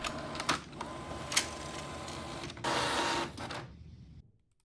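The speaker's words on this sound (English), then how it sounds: "now it wakes up and prints the test file" Inkjet printer waking from sleep to print a test page: mechanical whirring and clicking, a louder burst of feed motion near the end, then the motor winds down to silence.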